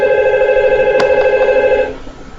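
A simulated IP phone in Cisco Packet Tracer rings with a loud, steady electronic tone of stacked pitches, cut briefly by a sharp click before the ring stops and fades.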